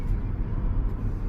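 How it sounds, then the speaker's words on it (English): Road traffic heard from inside a moving car: a steady, low, broadband rumble of engine and road noise, close and even throughout, with no talk. "This is terrible. All this traffic."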